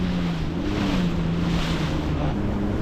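Personal watercraft riding over big waves in strong wind on Gardner Lake in Connecticut, a constant loud engine drone under heavy wind buffeting and rushing water, steady throughout, no voices.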